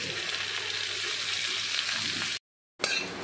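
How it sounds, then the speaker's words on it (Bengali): Onion and garlic sizzle in a hot pan as a steady, broad hiss with faint crackles, close and continuous, broken by a brief silent gap before the frying resumes. "পেঁয়াজ রসুনটা একটু ভাজা ভাজা করে নিয়েছি।"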